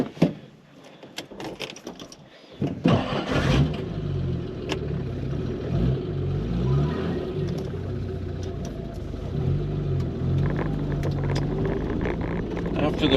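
A car engine rumbles steadily from inside the cabin while driving around Connecticut, settling into a continuous low drone after a quieter start, with some faint background speech.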